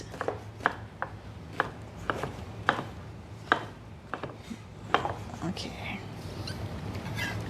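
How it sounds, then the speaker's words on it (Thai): Knife chops king oyster (eringi) mushrooms into dice on a board, a run of sharp evenly spaced taps that loosens toward the end, with a voice heard faintly under it. "so cut mushroom to like dice"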